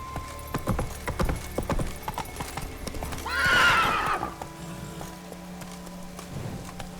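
Horse hooves clip-clop steadily in The Witcher 3, with a loud neigh and whinny rising in the middle of the gallop before the hoofbeats carry on alone.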